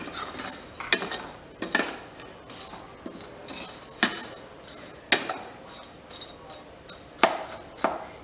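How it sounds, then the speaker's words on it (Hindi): Boondi being stirred gently into sugar syrup, a string of soft scraping and clinking spoon strokes against the pan at an irregular, unhurried pace, close and fairly quiet. "बूंदी को चाशनी में डाल देंगे और इस तरह से हिला लेंगे हल्के हाथ से"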